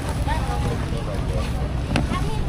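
A passenger boat carrying over 30 people on the Java Sea idles with a steady low rumble, mixed with wind buffeting and brief clatter nearby.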